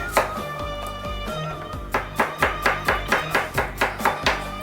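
Rapid knife chops through an onion on a board, a quick regular run of sharp taps picking up after a pause, with background music underneath.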